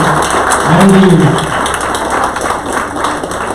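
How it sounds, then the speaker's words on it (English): An audience at an alumni interaction meet applauds: a loud, dense wash of many hands clapping that carries on steadily, with some background voices mixed in. "Can we just have them stand and give them a round of applause?"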